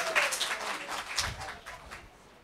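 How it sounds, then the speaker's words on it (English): Small event audience clapping at a literary celebration during a number-drawing raffle, a brief burst of applause that fades over a couple of seconds, with faint voices mixed in. "Oh, yay, let's clap."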